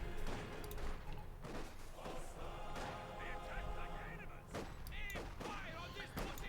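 A field gun fires and misses in the Company of Heroes 2 strategy game, sharp booms and thuds scattered among crackling gunfire and battle noise, with several loud reports at intervals.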